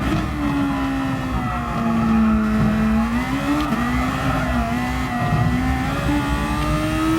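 A race car engine in a racing game holds a steady, droning high-rev note that rises and dips slightly as the throttle is worked, loud and continuous with no voices.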